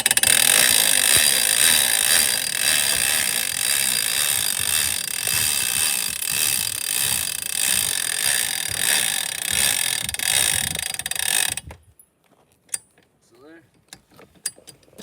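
Steady mechanical ratcheting and clicking from a crank lowering a 2016 Ice Castle ice fishing house for about twelve seconds, close and fairly loud, then stopping abruptly into near silence.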